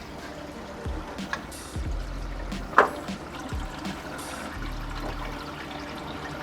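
Water sloshes and trickles as a protein skimmer is lowered into an aquarium sump, with a sharp splash near the middle and low gurgling throughout, close and moderately loud, no talk.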